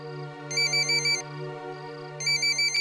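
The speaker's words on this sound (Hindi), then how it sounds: "चौधरी साहब का फोन" A phone ringtone plays loudly and close, a bright repeating electronic melody in two bursts with a brief gap, over a steady low hum.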